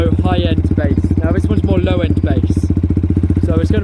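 A Yamaha YZF-R125 motorcycle idles with a deep, throaty, rapid-pulsing exhaust rumble, loud and close, while someone talks over it.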